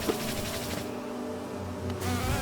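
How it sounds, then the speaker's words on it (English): Buzzing of bee enemies in the video game Hollow Knight, a steady droning hum that carries on continuously at moderate loudness alongside game music. "Not the bees!"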